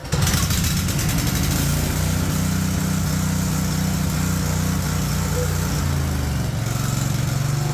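A Briggs & Stratton 18hp V-Twin Elite Series 10000-watt generator engine runs loud and steady close by, a constant low droning hum with no break and no voices.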